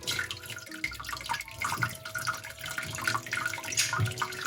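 Boiling water pours over a glass bottle, a close, fairly quiet trickling splash with drips running continuously and no talk.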